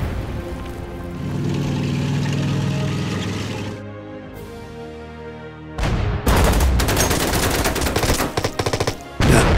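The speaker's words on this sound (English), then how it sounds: "they appear to be shooting at each other" Exchanges of gunfire in the WW2 strategy game Order of Battle, a low rumbling barrage fading into a lull, then a loud burst of rapid crackling shots close in, with no talking.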